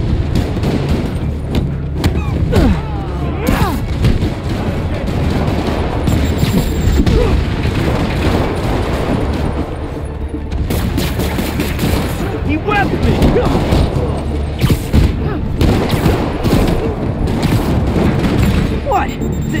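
Rocket explosions in the video game Spider-Man Remastered: repeated heavy booms and blasts over a dense, loud action mix with gunfire-like bursts, continuing throughout with a voice talking.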